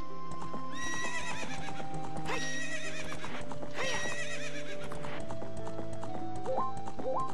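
A horse in Zelda: Ocarina of Time whinnies in loud, high, drawn-out calls while hooves clip-clop in a quick galloping rhythm, layered over bright game music.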